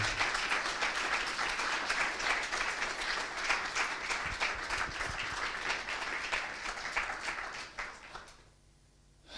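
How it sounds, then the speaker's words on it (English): A full audience round of applause at a Vitiligo Society open day talk, dense and steady for about eight seconds before it dies away quickly into a quiet room. "I'd love to give everyone a round of applause"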